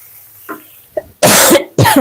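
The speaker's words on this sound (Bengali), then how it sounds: "বারে বারে কাশি আসে" A person coughs during a live cooking stream: a couple of small throat sounds, then two loud, harsh coughs close to the microphone.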